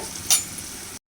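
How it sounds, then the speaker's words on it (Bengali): Onions frying in oil in a home kitchen pan for a chickpea curry, a short soft sizzle with one brief louder stir near the start, no voices. "আমার এই যে পেঁয়াজ ভাজাও হয়ে যাচ্ছে"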